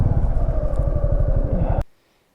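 A motorcycle on a solo ride in the Nubra Valley, Ladakh, idles loud and close with a rapid thumping engine pulse, then cuts off abruptly as it is parked, leaving silence.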